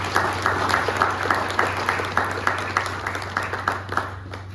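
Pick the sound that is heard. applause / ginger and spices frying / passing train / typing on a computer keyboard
applause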